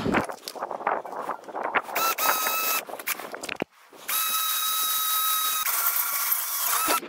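A power drill whines steadily with a high, rising pitch as it bites into metal shelving, interrupted by a brief pause before drilling resumes, loud and close.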